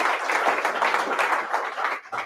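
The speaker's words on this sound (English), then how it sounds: "An applause for him." A brief burst of dense, loud audience clapping for a baroque guitar and lute player at a harp performance event, tapering off after about two seconds.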